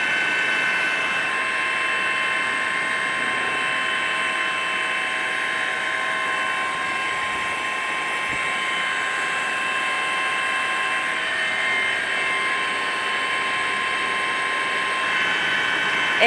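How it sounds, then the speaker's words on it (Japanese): A police rescue helicopter circling over houses the day after an earthquake, a steady whirring drone filling the whole stretch, constant and fairly loud, with a mechanical whine and no clear rise or fall. "今再び警察のヘリコプターが民家に近づいてきました。"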